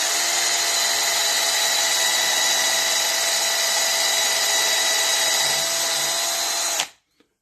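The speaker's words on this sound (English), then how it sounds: "Run it in with the drill and torque it down real good." A power drill drives a wood screw into a table saw tapering jig in one long, loud, steady whine that runs for about seven seconds, then cuts off abruptly with a brief click.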